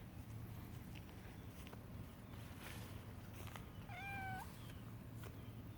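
A cat meows briefly in a flower garden planted with sunflowers and zinnias, a short rising-falling call near the middle, heard over steady outdoor background noise.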